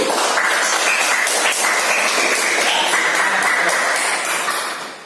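Grade four pupils in a classroom give group 1 a round of applause, dense and loud clapping from many hands that holds steady for about four seconds and then fades out.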